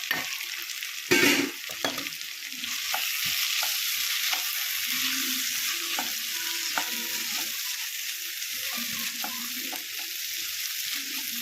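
Raw prawns frying in a pan for a Godavari-style tamarind-leaf prawn curry, with a steady sizzle and repeated scrapes and clinks of a spoon stirring, fairly close and with no talk.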